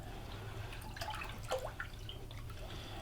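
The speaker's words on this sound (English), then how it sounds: "mix up the pulp" Paper pulp is stirred in a tub of water while making homemade paper. Soft, faint watery swishes and drips come in a brief cluster midway over a quiet, low hum.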